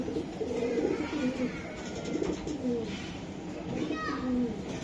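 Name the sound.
pigeons cooing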